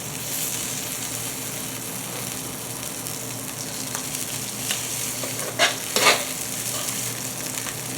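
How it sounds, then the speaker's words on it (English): Birria tortillas browning in a hot pan, a steady oily sizzle and frying crackle running throughout with a couple of sharper pops and spatters near the end. "We just want to brown the outside of the tortilla."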